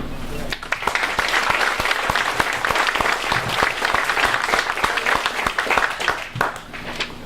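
Audience applause at a 2018 candidate forum, a dense, steady wash of many hands clapping that fills the room from about half a second to the end, loud and continuous with some voices mixed in.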